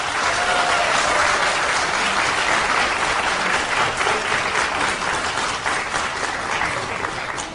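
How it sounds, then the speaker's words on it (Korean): Dense, sustained applause from a large audience at a Democratic Party national convention eve rally in Korea, welcoming the convention candidates; loud and continuous throughout with no clear speech on top. "이분들께 큰 박수 좀 부탁드릴게요."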